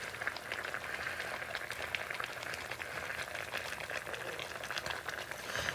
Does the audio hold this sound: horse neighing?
no